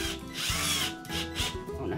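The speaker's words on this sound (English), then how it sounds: "So we're just going to drill the holes and mount that." A power drill bores through carpet into an RV subfloor while mounting a cockpit table, its motor whining loudly in surging pulses under a close, grinding bite.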